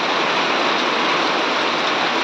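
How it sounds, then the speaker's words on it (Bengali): Heavy rain comes down as a dense, steady roar of close hiss that never lets up over a few seconds, with no voices. "এই যে এরকম তোমাদের দেখো প্রচুর পরিমাণে বৃষ্টি চলছে"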